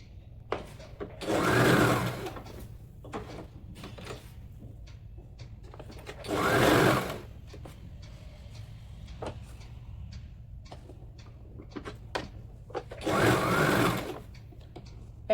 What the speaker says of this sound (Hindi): आहिस्ता आराम से इसको सिलाई करनी है।